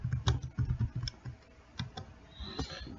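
Fingers tap out a short burst on a computer keyboard, a quick cluster of close key clicks followed by a few scattered presses in a quiet room.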